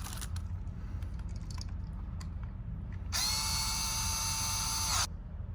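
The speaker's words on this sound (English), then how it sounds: "I'm just gonna tighten up these bottom two right here" Bottom screws on a wall outlet are tightened, with a few light clicks and then an electric driver whirring for about two seconds in a steady, high-pitched buzz before it stops.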